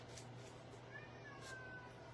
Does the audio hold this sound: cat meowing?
yes